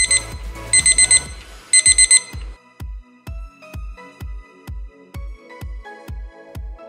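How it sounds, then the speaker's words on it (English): A homemade sonic trip-wire alarm stretched between two chair legs sounds off when tripped by hand: a few loud bursts of high beeping, then a steady series of sharp clicks or ticks repeating about twice a second, close and alone. "I mounted the tripwire between two chair legs and used my hand to trip the alarm."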